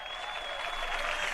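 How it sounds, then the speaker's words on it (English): A clapping jingle played during a hosted show, a brief, fairly faint burst of steady crowd applause from a sound effect. "See if I can find me a clapping jingle there"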